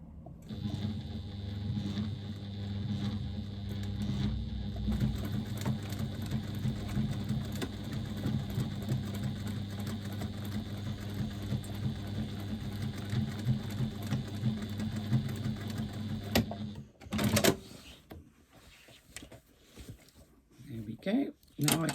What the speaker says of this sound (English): Back stitch a couple of stitches, and the same thing again.